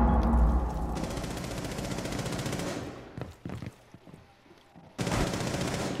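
Rapid shotgun fire in Rainbow Six Siege on the Fortress map, loud close bursts of repeated blasts, a pause with a few scattered sharp shots, then another heavy burst.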